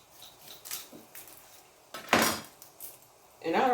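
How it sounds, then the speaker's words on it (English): A knife chops an onion into quarters on a cutting board, with a few sparse clicks and knocks followed by louder blade strokes and rustling of the onion skin. "So we're going to cut the onion in 4 pieces."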